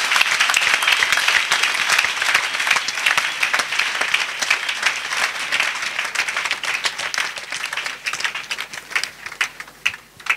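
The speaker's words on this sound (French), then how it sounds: "Clap for Jesus." Congregation at a salvation and healing weekend service in Bingerville clapping together, a dense, loud, sustained patter of many hands that thins slightly toward the end.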